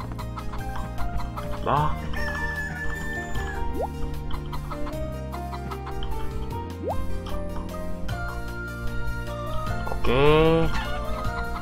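Chickens cluck in the farming video game Harvest Moon: Save the Homeland, with a few rising clucks among steady game music and drips, and a person speaks briefly.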